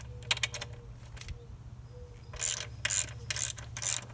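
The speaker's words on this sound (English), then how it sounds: "I'm gonna use my" A ratchet wrench works a 12 mm nut loose during a motorcycle rack installation: short bursts of quick metallic clicking, then longer ratcheting runs, close up over a low steady hum.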